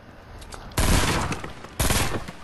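Automatic weapon fire in Fortnite, two loud close bursts of rapid shots over a low game backdrop, the first longer and the second starting just before the end, with no talk during the firing.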